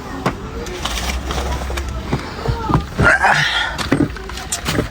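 Old car being started for the first time after a mountain road trip to Baguio: engine cranking and catching into a rough idle, with clicks and mechanical knocks and people talking over it.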